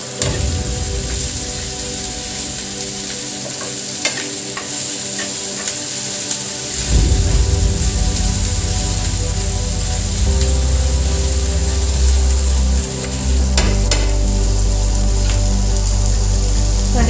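Turmeric being stirred into masala frying in a pan for egg cake masala curry, with a steady loud sizzle and scraping stir strokes throughout and no talking.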